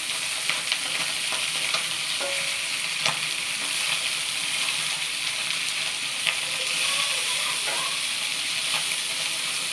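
Fish and sweet pumpkin fry in a pan with a constant close sizzle, broken by occasional scrapes and clinks as the pieces are stirred, with no one talking.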